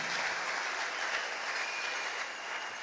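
Church congregation applauding and cheering together after a prayer, a dense, steady wash of clapping that fills the whole moment without letting up.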